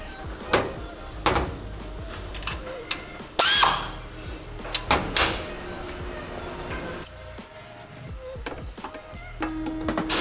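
Parts being tightened while assembling an Ohlins DFV coilover for an NA6 Miata, with scattered metallic clicks, ratcheting and tool clatter at close range, irregular and in bursts.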